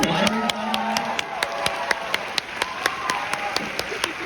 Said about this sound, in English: Can we get an applause for Tomar?